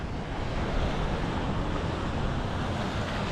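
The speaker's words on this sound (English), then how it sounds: "I don't know how well you'll be able to hear me over the waves." Ocean waves crash and roar steadily at the shore, a dense continuous wash mixed with wind buffeting the microphone, with no voices.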